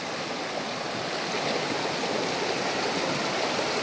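Strong river water rushes steadily and loudly over rocks, a dense unbroken roar with no voices, heard close at a swimming spot after rain.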